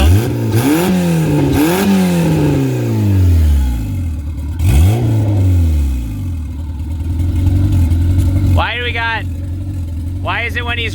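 A turbocharged Honda engine revs up in a few sharp bursts, each one rising and then falling away, with a whoosh of air from the turbo at the end and people talking nearby.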